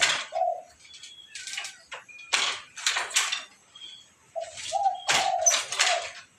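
Repeated spotted dove coos, low and soft, mixed with other birds chirping brightly nearby in an outdoor setting.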